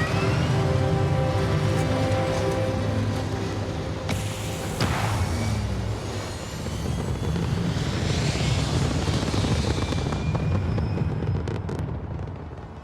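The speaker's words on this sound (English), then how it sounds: "Liftoff looks good, all systems nominal." Continuous engine roar of a spaceship lifting off in the video game Starfield, loud and sustained with a deep rumbling low end and a brief surge of higher rushing noise partway through, heard alone without talk.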